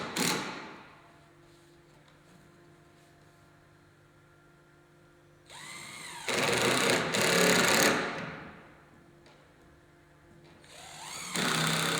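A power drill drives 8 by 2 inch stainless steel screws into gazebo handrails and posts, a few loud whirring bursts separated by quieter pauses with a faint hum underneath.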